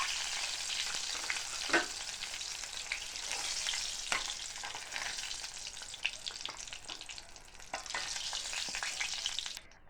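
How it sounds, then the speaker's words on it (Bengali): Eggplant pieces fry in hot oil for a fish curry with lentil dumplings, giving a dense, steady sizzle with occasional crackling pops, close and alone without any voices. "দেখো এই যে বেগুনটাও কিন্তু খুব সুন্দরভাবে ভাজা হয়ে গেছে।"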